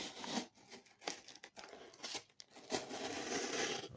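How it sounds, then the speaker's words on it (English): A camp knife saws and tears through a cardboard box in several ragged, crackling strokes with brief pauses between them, close and moderately quiet, with no talking. "will it cut a box?"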